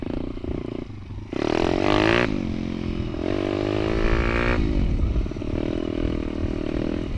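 Geon X-Ride 190 pit bike on a wet surface, engine revving hard in loud bursts as the rear wheel spins and breaks loose, rising and falling roughly twice over several seconds, close by.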